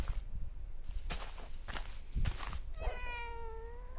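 Cat meowing in Minecraft Bedrock Edition, a few short game-cat mews near the end over soft blocky footstep thuds and light game ambience.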